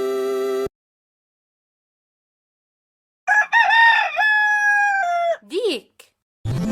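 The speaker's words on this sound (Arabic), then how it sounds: "ديك." A rooster gives one loud, close cock-a-doodle-doo with clear harmonic notes and a squawking finish, following a short tonal chime and a pause of silence.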